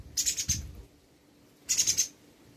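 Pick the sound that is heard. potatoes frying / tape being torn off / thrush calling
thrush calling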